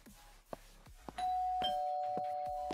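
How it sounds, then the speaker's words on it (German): A doorbell in the video game Factory Runner rings a two-tone ding-dong with a sustained tone that rings on, above soft game sounds and several faint clicks. "Ding dong."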